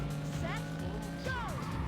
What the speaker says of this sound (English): This builds the revs so fast.